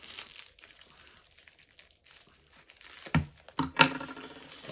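A flat black parcel from a lost-mail package is opened. After a quiet stretch, its plastic wrapping crinkles and tears in a few loud, close bursts, with no speech.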